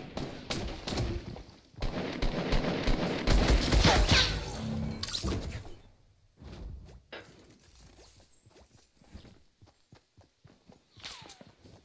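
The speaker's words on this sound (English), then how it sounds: "I got shot at." Gunfire rattles through a Fortnite battle royale fight, a dense burst of shots and impacts that builds to a loud peak and then thins out into scattered single shots and footsteps.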